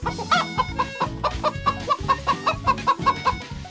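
A storyteller's voice imitates hens clucking, giving a quick run of rhythmic clucks and squawks that repeat steadily from start to finish, close and clear, with no other talk.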